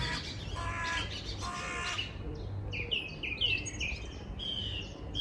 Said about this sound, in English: Can you hear that song thrush? Going mad.